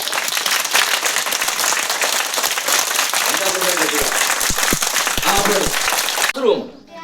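An audience claps loudly and steadily for several seconds at a school event, a dense wash of hands that breaks off suddenly near the end, with a voice speaking over it.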